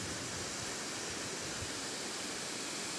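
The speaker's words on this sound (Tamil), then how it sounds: "இதுதான் நாய் அருவி." Naai Aruvi waterfall in the Kolli Hills, a steady broadband rush of falling water heard from nearby, continuous and even for the whole stretch with no voices.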